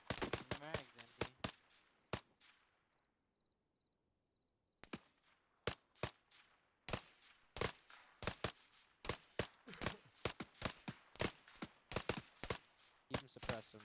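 Gunfire in a fire team training video game, sharp close rifle shots in quick bursts and single cracks, a silent gap of about two seconds, then more irregular shots keeping up suppressive fire.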